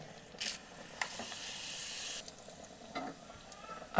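Oil sizzles and crackles in a pan for tempering, with bursts of hissing as dried chillies, green chillies, cumin, mustard seeds and garlic drop in, and a few clinks of utensils.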